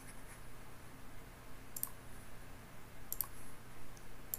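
Three sharp, isolated computer mouse clicks spaced over a few seconds against a quiet background while setting up Windows XP in VirtualBox.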